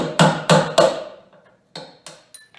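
A hammer strikes a steel drift to knock out one-inch cab mount bolts on a Ford TW-20 tractor: three loud ringing metallic blows in quick succession, then a few lighter taps and clinks.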